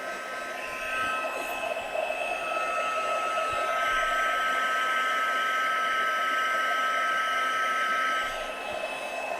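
A heat tool blows hot air while drying card-making materials, a steady loud whooshing hiss with a fan whine, close and continuous, no talking.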